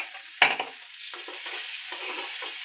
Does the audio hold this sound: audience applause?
no